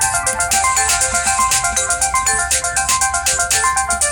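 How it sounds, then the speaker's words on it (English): A phone ringtone plays loudly and alone, a bright melodic electronic tune with a steady repeating rhythm throughout. "This is my ringtone."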